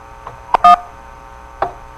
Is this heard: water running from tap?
no